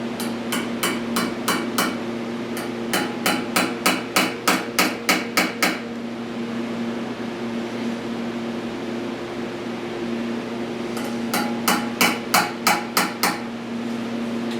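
Rapid series of sharp metallic hammer strikes on an exhaust spring tool in bursts, a long run of blows, a pause, then another quick volley, over a steady mechanical hum.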